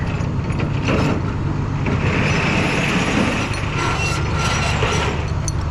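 A tow truck winch spools its chain out in free spool, giving a continuous loud mechanical rattle and clanking with ratchety ticks over a low truck rumble, and no voices.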